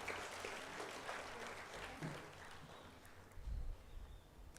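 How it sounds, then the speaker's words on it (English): Quieter, somewhat distant applause from a graduation and awards ceremony audience as students walk to the stage, a steady patter of many hands with faint low rumbles and shuffling noise swelling near the end. "Let's give them a round of applause as they make their way to the stage."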